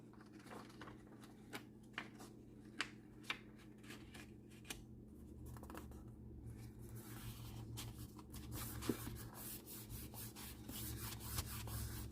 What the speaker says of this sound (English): I'm going to rub that and make sure that it comes in contact with the glue